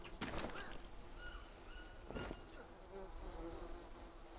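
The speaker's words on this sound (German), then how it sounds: "Bienen!" Insect buzzing from bees in the jungle survival game Green Hell, a steady droning hum running through with a few louder bursts and faint tonal game sounds over it.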